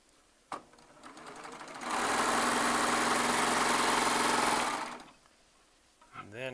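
A Baby Lock Triumph serger sews a 3/4 quilt piece in one loud, steady whirring run of about three seconds. Quieter handling noises and a brief voice come before and after the run.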